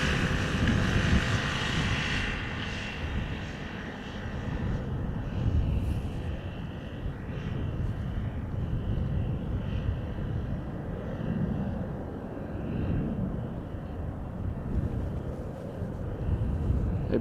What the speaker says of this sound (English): A Boeing 747-400 that is 28 years old.